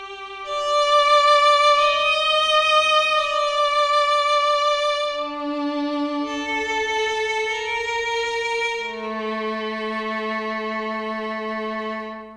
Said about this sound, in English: This is a violin instrument with additional shimmer layer and reverb.